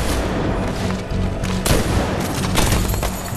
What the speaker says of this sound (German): Oh, ne MG.